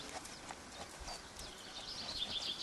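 A horse walking on a lunge line, hooves landing in soft, faint thuds at an irregular walking pace, heard from a distance under hissy outdoor background noise.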